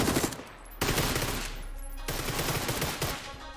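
Rapid automatic fire from a K2 rifle in PUBG crackles out in two loud sustained bursts, each opening with a sharp onset and then rattling on steadily. No one speaks over the shooting.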